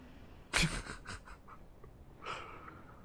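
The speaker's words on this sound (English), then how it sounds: "With that open mouth, heavy breathing" A creature breathes heavily behind a barricade in Dark Souls 3: a sharp gasp followed by a run of raspy, faint panting breaths and a later snort.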